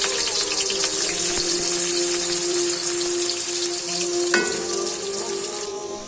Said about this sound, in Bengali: এখন 50 গ্রাম তেল গরম করে পেঁয়াজ কাটা ঢেলে নাড়তে থাকি।